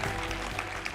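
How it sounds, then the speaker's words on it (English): Audience applause at a hackathon closing ceremony in London, a dense wash of clapping from a crowd, steady and moderately loud throughout. "One more nice round of applause."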